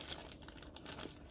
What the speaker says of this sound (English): gonna use a plastic bag, and this plastic bag I've used before.